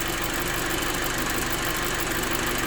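A rebuilt Audi A4 B7 2.0 TFSI engine fitted with a 1.8T oil pump kit idles steadily, a dense constant hum with a slight knocking texture, close and fairly loud with no talk.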